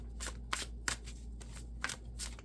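Tarot cards shuffled by hand in quick, papery riffling bursts, roughly half a dozen in a steady rhythm, close and fairly quiet with no voices.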